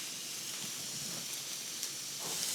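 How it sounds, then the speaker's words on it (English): A steak sears on a hot grill, giving a steady, moderately loud broadband sizzle and hiss that holds evenly throughout with small crackling pops, and no voices. "I am only searing the outside"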